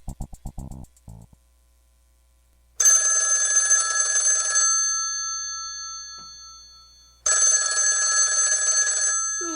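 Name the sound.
telephone bell ringing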